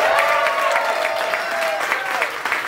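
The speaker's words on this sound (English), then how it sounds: "please clap for that" Audience applause at a queer drag and cabaret performance night, steady dense clapping with a few whoops over it, sustained throughout at moderate loudness.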